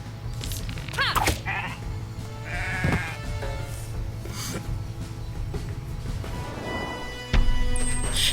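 Sheep bleat repeatedly in the video game Renowned Explorers, short cries over busy game music and effects, with a louder burst near the end.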